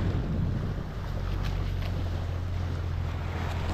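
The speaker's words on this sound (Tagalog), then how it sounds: "Ayan na, mga bangka dito oh." Boats out on the water, heard as a steady low engine drone mixed with wind buffeting the microphone and broad wash of water, continuous throughout.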